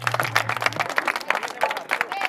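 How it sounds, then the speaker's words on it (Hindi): Villagers at a community gathering in Morkhedi clap together, a dense patter of many hands under a brief low hum, continuing steadily at moderate loudness. "तो एक बार सारे गांव वाले खातर ताली बजा दो भाई।"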